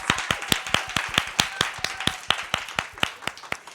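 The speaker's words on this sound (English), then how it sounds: "let's give them a round of applause" Hands clap in a fairly regular rhythm at a nonprofit annual meeting as staff are introduced. The claps come close and distinct, as if from a small group or a single nearby person, with no talk.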